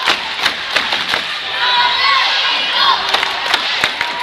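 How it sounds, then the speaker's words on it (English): A student section cheers and roars at a high school boys basketball game between Okarche and Watonga, a loud sustained crowd swell with sharp thuds of a bouncing ball and squeaks cutting through. "And this crowd is on its feet now. Our student section is on its feet."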